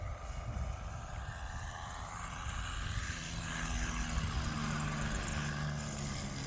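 The glow engine of a balsa RC trainer plane idles high as it comes in to land, a continuous buzzing drone close by that swells slightly near the end.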